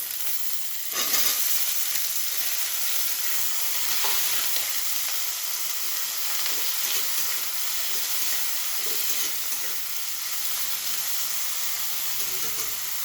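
Potato and eggplant fry with asafoetida in a pan, giving a loud, constant sizzling hiss with scattered crackles and soft stirring scrapes close by.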